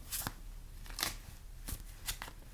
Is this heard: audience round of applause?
no